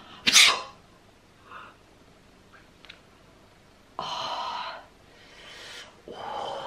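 A person sneezes once, sharply and close by, right at the start after staring into a light, followed by softer breathy gasps and snorts.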